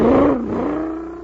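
A supercharged toy surface car drives off with a brief loud engine whir that sweeps and dips in pitch, then settles into a steady hum as it pulls away.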